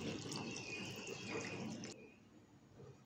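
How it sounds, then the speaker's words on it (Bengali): Water poured into mashed cooked dal for a winter vegetable dal, a steady close splashing stream for about two seconds, then a quieter trickle. "এবার এর মধ্যে আমি প্রয়োজন মতো জল দিয়ে দিচ্ছি।"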